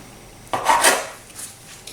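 A knife slices through a date cake into diagonal pieces, giving one short scraping, rasping cut of about half a second, followed by faint clicks against the board in a quiet kitchen.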